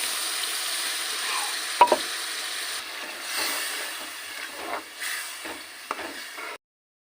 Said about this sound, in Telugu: ఇక కొంచెము పులుసు పోస్తున్నా.